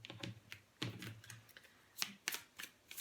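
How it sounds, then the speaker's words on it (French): A deck of tarot cards is cut by hand, making a series of soft, close riffles and crisp slaps at irregular intervals, quiet, with no one speaking. "Je vais quand même couper le jeu."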